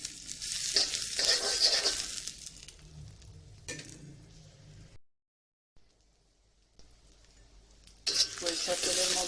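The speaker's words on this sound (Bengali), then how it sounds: "সরিষার তেলের মধ্যে আমরা পেঁয়াজ এবং রসুন দিয়েছি" Onion and garlic frying in mustard oil for a pumpkin and prawn curry, bursts of bright sizzling with stirring that die away into a near-silent gap midway before the sizzle returns loudly at the end.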